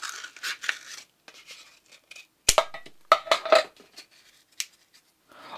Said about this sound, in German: Für diese Toilettenpapierrollen halbiert ihr immer die Rollen.